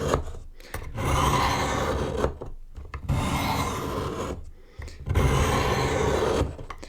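Knife sharpening on a brownstone, with three long, even rasping strokes of the blade over the gritty stone separated by brief pauses, heard up close with no voices.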